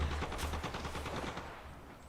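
Rapid bursts of automatic gunfire in a shooter video game, a quick rattling series of shots that fades toward the end, heard without talk.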